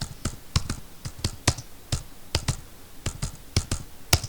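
Someone types a database query on a computer keyboard, a close, steady run of crisp key clicks in irregular bursts with short pauses and no talking.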